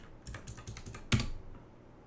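Rapid keystrokes on a computer keyboard as a user password is entered, a quick run of close, light clicks ending in one firmer press.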